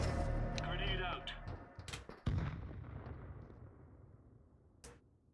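A sharp grenade blast in a video game, a loud close burst followed by a long fading rumble, with a few other impacts and a voice heard around it.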